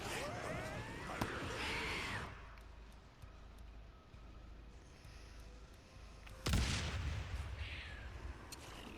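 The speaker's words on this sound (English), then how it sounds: "What about some grenades? Let's throw some grenades." Grenades burst against a horde in the zombie survival game Days Gone: one booming blast early, a stretch of low rumble, then a second loud explosion near the end, with no speech.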